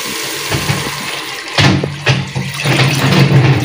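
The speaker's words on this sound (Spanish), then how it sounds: "Ahora vamos a agregarle agua" Water is poured into a cooking sauce base for carapulcra chinchana, a steady loud splashing pour that swells after a soft start and keeps running close by.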